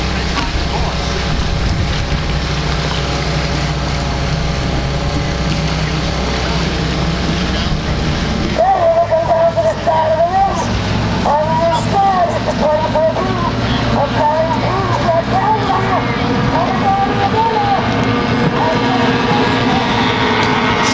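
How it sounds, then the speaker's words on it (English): Stock hydroplane racing boats coming around for the start of a race, their engines a continuous loud drone; a voice speaks over them in the second half. "And the boats are coming around for the start."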